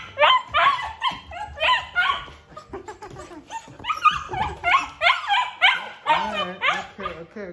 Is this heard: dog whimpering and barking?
yes